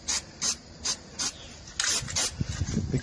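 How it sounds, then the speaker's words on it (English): Spray paint hissing onto a cleaned, degreased stabilizer bar area of a Nissan Frontier suspension, four short regular bursts followed by a longer continuous spray, close and fairly loud, with some handling noise at the end. "we're just going to want to take our spray paint"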